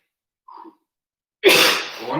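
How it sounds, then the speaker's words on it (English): A single sharp sneeze rings out loud and close during a live at-home workout class, preceded by a faint short intake of breath. "I want to sneeze here."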